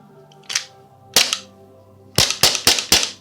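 An airsoft gas pistol with a leaky magazine fires six sharp, close pops: two spaced single shots, then a quick run of four. There is silence between the shots.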